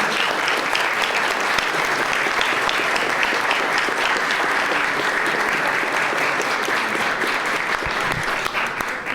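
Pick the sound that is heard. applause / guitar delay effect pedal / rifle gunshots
applause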